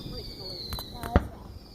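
Fourth of July fireworks bursting in 2021, a few sharp booms with one strong close blast standing out over a steady hiss and background murmur; people talk and react around them.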